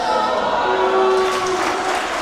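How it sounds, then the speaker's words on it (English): A wrestling crowd at a women's match applauds and cheers steadily, a dense, even wash of clapping and crowd noise that holds for the whole stretch without letting up. "this crowd is so excited for Hyan"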